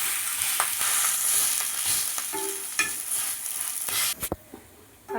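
An onion chilli paratha sizzles steadily on a hot pan after being flipped, with a few light scrapes and taps mixed in before the frying noise cuts off sharply near the end.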